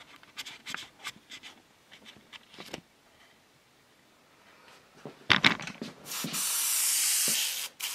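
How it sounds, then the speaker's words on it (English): After scattered scratchy handling noises and a few short bursts, an airbrush loaded with paint lets out a steady, close hissing spray for a couple of seconds. "Try to get all that tongue color out of the airbrush so we go back to the white"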